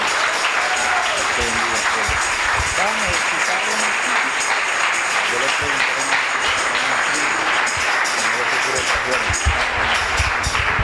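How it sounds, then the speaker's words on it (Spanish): A congregation at an evangelical church service breaks into loud, sustained applause that fills the room, with a voice speaking over it at times. "Bríndeles aplauso a Cristo."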